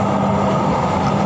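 The LRT Jabodebek light rail train running, a loud steady rumble of wheels on track heard from inside the car, with even, continuous noise and no talking.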